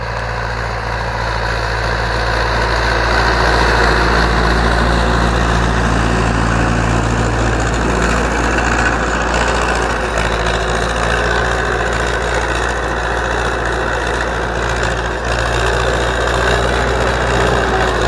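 An Ursus tractor engine, likely a C 360 or C 325, idling loudly nearby with a steady low rumble and knocking pulse, struggling to pick up revs, running continuously with no speech over it.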